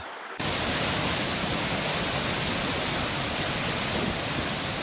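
The Yellow River's Hukou Waterfall in China roars as a steady, dense wash of broadband noise that starts abruptly and holds loud and unbroken throughout, with no voices.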